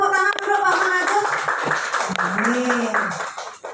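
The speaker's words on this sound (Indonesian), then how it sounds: "Kita kasih tepuk tangan dulu Pak Manajus." Clapping from a small group fills a meeting-room discussion for teachers, mixed with talk and voices that carry over it throughout.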